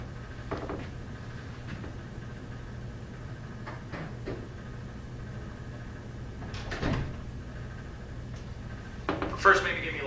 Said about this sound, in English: I'm just gonna close the other door, that's just double doors